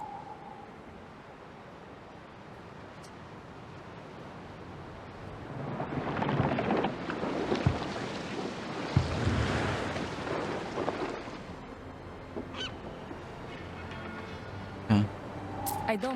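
Ocean waves wash and surge around a sailing ship in Anno 117, a Roman-era city builder game, rising from quiet into a broad, rolling rush midway before easing back under scattered small knocks.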